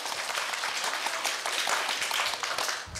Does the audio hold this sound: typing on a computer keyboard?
no